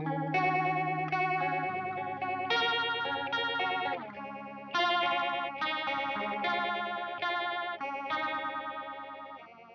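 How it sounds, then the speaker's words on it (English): A guitar effects pedal set to full depth turns played guitar notes and chords into a swirling, rotary-speaker-like warble, sustained phrases ringing out one after another, close and clear with no talking. "if you turn it up all the way high, you get a nice rotary speaker sort of sound."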